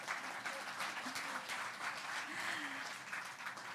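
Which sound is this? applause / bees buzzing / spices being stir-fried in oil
applause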